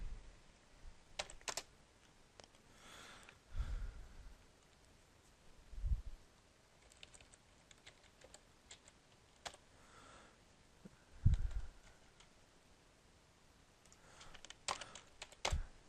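Scattered keystrokes on a computer keyboard come in short irregular clusters with soft clicks and pauses, recorded up close in a quiet room.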